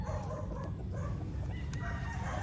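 A gray yellow-legged hatch broodstag rooster crows amid a dense, constant din of farmyard fowl, the call blending into steady background clucking and noise throughout.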